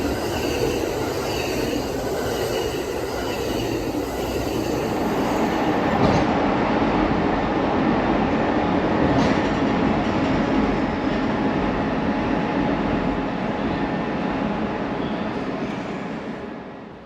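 An Amtrak passenger train rolls steadily along the rails between Chicago and Champaign, a continuous rumbling roar with faint wheel squeal, rising slightly midway then easing off at the end.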